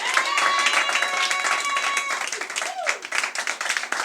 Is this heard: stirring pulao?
no